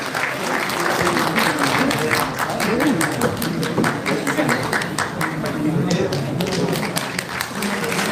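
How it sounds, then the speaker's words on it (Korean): An audience in a large National Assembly conference hall applauds to welcome a lawmaker, producing sustained, dense clapping from many hands at close range that runs the whole time without a break. "이런 박수로 서병수 의원님을 환영하시며"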